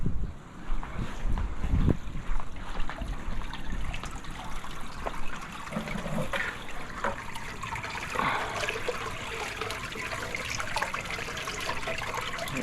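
Water trickling and splashing in a small fish pond waterfall, a steady soft wash of flow at low level throughout, with no talk.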